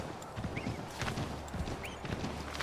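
Horse hooves clip-clop in the video game Assassin's Creed 3 Remastered, a quiet uneven run of hoof beats with a couple of faint whinny-like tones over soft background ambience.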